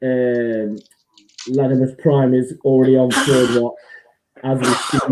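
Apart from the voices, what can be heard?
sneeze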